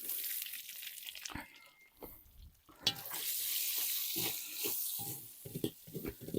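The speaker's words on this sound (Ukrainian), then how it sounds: "цибулю ми обжарюємо ну, хвилини 4, не більше" Onion frying in vegetable oil in a cauldron over an open fire, a steady crackling sizzle with occasional stirring scrapes, close and without talk.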